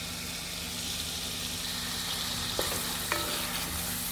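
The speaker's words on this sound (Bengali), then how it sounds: "টমেটোটা নেড়ে ছেড়ে এইভাবে মশলাটা মিক্সার করে দিয়ে" Tomatoes, green chilies and spices sizzling as they are stirred in a pan for a fish and vegetable curry; a continuous close frying hiss with a couple of sharp utensil knocks near the end.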